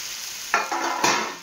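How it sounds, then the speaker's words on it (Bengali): Paneer pieces drop into a hot pan and are stirred, bringing bursts of loud sizzling with scraping that swell in a few quick steps over a steady frying hiss; no speech. "তো এবার দিয়ে দেবো পনিরগুলো"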